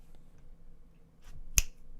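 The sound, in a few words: finger snapping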